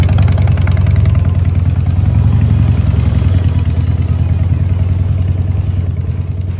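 A Harley-Davidson Softail motorcycle engine idles with a loud, steady low rumble and a faint clattering pulse, close and continuous.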